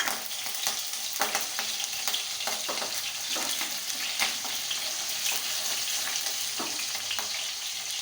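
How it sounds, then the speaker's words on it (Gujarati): Red and green chilies hit hot oil for sabudana khichdi, giving a steady close sizzle and crackle with scattered spits and light stirring throughout, alone without voices. "હવે એમાં આપણે આ લાલ લીલું મરચું નાખશું"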